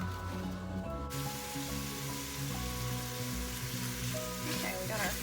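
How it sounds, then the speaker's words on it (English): Sausage sizzles and crackles steadily in a hot frying pan, a dense frying hiss with low background hum. "we got our sausage frying up in here"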